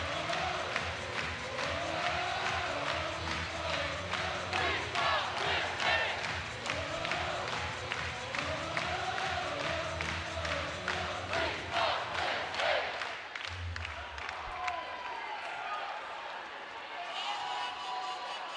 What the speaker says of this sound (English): Great crowd, even on a very,